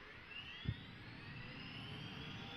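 An HPG-135 helicopter in Microsoft Flight Simulator spools up with a steady rising turbine whine and a low rumble, a single thump partway through.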